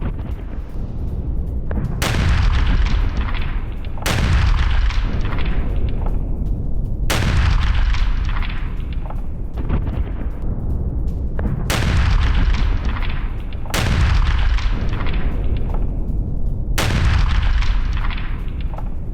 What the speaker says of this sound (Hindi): यूक्रेन के सैन्य ठिकानों पर एयर स्ट्राइक